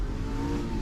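An Aston Martin V8 Vantage with 380 horsepower revs while driving, a steady mid-pitched engine drone rising slightly in pitch, close and continuous.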